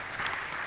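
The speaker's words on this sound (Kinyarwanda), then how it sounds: "Let's applaud them so much." An audience at a church gathering claps together in a brief, fairly soft burst of dense applause, many hands at once with no speech on top.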